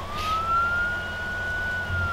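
Police siren on an Ifrit vehicle in the Altis Life game, a sustained high wailing tone held steady over a low engine rumble, loud and close with no talk.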